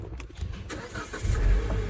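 A used heavy-duty truck's engine cranks and catches, building from a rough turnover into a loud, close, low rumble that swells toward the end with no talking.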